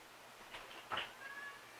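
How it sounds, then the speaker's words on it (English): A cat meows outside in cold, rainy weather, wanting to come in, a single faint, distant call muffled by steady background noise. "Got one of our cats knocking on the outside wanting to come in."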